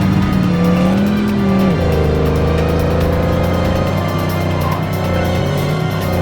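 A sports car speeds along in The Godfather video game, its engine droning steadily and loudly throughout with shifting pitch as it accelerates, alone without talk.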